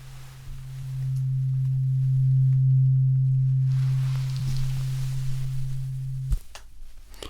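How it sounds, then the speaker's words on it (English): A tuning fork rings with a steady pure hum held close to the ear, swelling then slowly fading before a soft tap cuts it off; quiet, intimate setting. "So I've got a tuning fork here. We're going to make a little noise and we put it very close to your ear."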